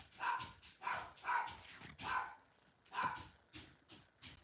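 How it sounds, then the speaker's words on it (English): Dog barking repeatedly in short bursts, about five or six barks spaced roughly half a second apart, moderately loud and alone with no talk over them. "I think I know what's setting off the dog."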